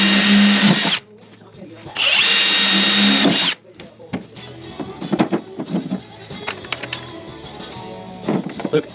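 A power drill bores holes in the tailgate bumper of a Jeep Wrangler TJ. There are two loud, sustained whines of about a second each, then shorter clatter and handling noises as people talk nearby.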